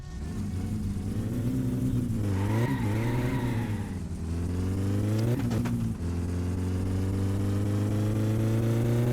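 In the driving game My Summer Car, a car engine fitted with nitrous oxide drones loudly and steadily during testing, rising in two rev surges with a brief dip between them, then settles back to a constant idle-like hum, with no voices.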